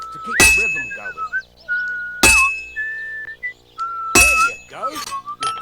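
In Kingdom Come: Deliverance II, a hammer strikes a sword at a forge three times at an even, slow beat, each blow a loud metallic clang that rings on. Someone whistles a tune between the blows.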